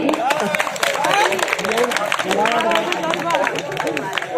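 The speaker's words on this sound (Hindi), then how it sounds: "मैं चाहती हूँ एक मरतबा आप सब इन सब के लिए जोरदार तालियां बजा दें।" An audience at a mushaira, an Urdu poetry gathering, applauds with a dense, continuous patter of many hands, crowd murmur and voices mixed in throughout.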